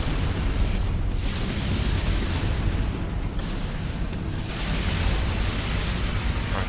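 Frag grenades explode in a PS3 shooter game, heavy rumbling blasts that run almost continuously, loud and close, with no talk over them.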